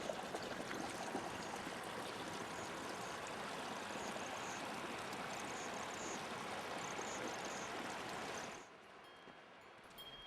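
A mountain stream near Shrikhand Peak rushes in a steady, dense wash of flowing water, then drops off abruptly near the end, leaving a quieter background.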